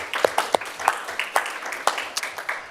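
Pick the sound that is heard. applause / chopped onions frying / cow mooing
applause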